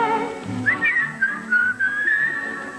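A person whistles a cheerful tune, clear and close, with wavering sustained notes and short phrases, over faint room tone.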